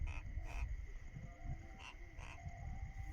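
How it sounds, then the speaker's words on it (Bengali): A lathigola, a local wild animal, calling with short repeated croaking notes near a riverbank in Bidyadhari river fishing country, faint and soft against a steady background hiss, with a few brief sharp bursts. "লাঠিগোলা ডাকছে কোঁক কোঁক কোঁক কোঁক করে ডাকছে লাঠিগোলাটা"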